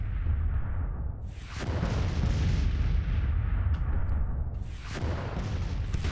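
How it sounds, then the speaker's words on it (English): Rumbling artillery fire in the Civil War strategy game Grand Tactician: a dense, continuous battlefield roar with heavy low booms, swelling around two seconds and again near five, with no voices. "artillery continues to work"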